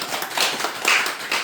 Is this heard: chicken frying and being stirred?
no